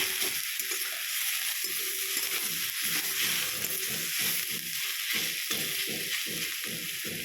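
Leafy greens fry in a pan with a constant hissing sizzle and a quick, regular series of soft stirring strokes running throughout.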